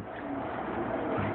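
Young tippler pigeons coo softly in a loft, a low murmur set against a constant airy background hiss.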